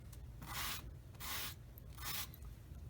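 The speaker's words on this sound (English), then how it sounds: "I get some wet and dry sandpaper, wet it, and then just gently sand it" Wet and dry sandpaper, wetted, gently sanding a plastic part from a Tamiya 1/48 F-16CJ model kit: three slow back-and-forth rubbing strokes, soft and close, with no talk.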